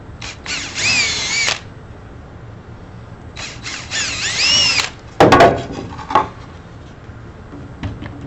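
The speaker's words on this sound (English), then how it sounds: "Just go ahead and drill your screw holes." A power drill whines in two bursts as it bores screw holes into wood, followed by a few knocks and clatters of the tool and workpiece.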